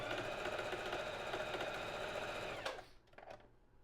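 A sewing machine running steadily while stitching a three-step zigzag, a loud continuous mechanical hum with rapid needle rhythm that stops abruptly near the end, followed by faint quieter handling sounds.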